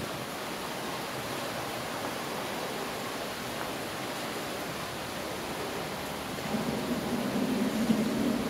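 Steady, even hiss of rain falling all around in La Libertad, Zamboanga del Norte, a constant wash with a slightly heavier patch near the end; no voices.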